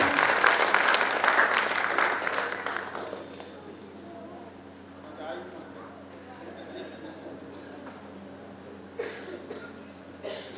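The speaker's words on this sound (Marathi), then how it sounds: "अन्नपूर्णेसाठी जोरात टाळ्या वाजल्या पाहिजेत." An audience claps loudly at first at a Navdurga award ceremony, then the applause fades into a quieter murmur of room noise with scattered sounds and a few faint claps.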